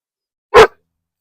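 A single short, loud dog bark rings out close by, sharp and isolated against complete silence.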